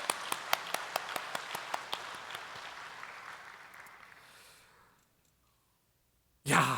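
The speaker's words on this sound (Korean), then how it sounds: "우리 좋으신 하나님께 다시 한번 우리 감사의 박수 드릴까요?" A church congregation gives a round of thanksgiving applause during a worship service; crisp individual claps ring out at first, then blur into a softer wash that fades to silence before a sudden noise at the end.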